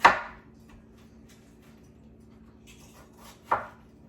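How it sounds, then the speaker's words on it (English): Two sharp knife chops through frozen bell peppers hit a cutting board several seconds apart, each a crisp thud against a quiet kitchen with a faint hum. "I am chopping frozen bell peppers"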